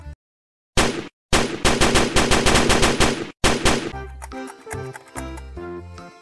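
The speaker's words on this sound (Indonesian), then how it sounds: "Wow, yang ini ada pistol mesin gun." Toy machine gun from a yellow plastic Nerf-style blaster set firing loud rapid bursts of rattling shots in several runs, broken by brief pauses, close by and with no talk.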